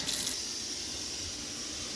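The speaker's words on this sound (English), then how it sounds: "now you turn the water on" Water runs steadily from a kitchen sink faucet, with the rushing stream loudest at the very start and then holding an even, close hiss throughout.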